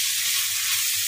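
Rice grains frying in a pan with a pinch of salt, for ilish polao: a steady, even sizzling hiss that runs unbroken and fairly loud through the whole short moment, with no voices.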